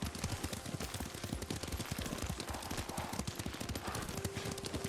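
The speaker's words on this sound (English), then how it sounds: "Lord Sakai taught me to ride a horse." Horse hooves clip-clop at a steady riding pace in Ghost of Tsushima, a dense rhythmic run of hoofbeats heard close and continuous, with a faint tone near the end.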